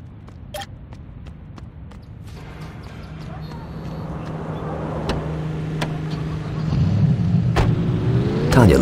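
A car driving in the video game Saints Row (2006), a steady engine drone that builds louder toward the end with a rising rev, scattered clicks and game effects over it and voices talking.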